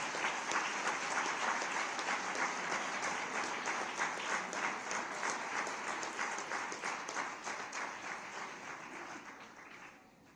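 A large audience at a community event in a Swaminarayan temple claps after a minister's speech, dense steady applause with rhythmic pulsing that gradually thins and fades toward the end.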